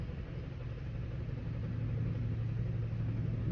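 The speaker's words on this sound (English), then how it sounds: "Sorry, I had to turn my car off." A car engine idling before being switched off, a low steady rumble close by with no voices, holding even throughout.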